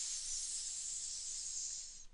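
A voice imitates steam hissing from a radiator, a steady, bright, breathy hiss held for about two seconds before trailing off.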